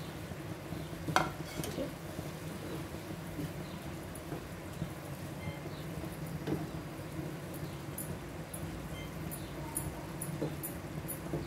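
Goat liver fries with spices on a tawa over a stove fire, a soft continuous sizzle with occasional stirring scrapes and clinks.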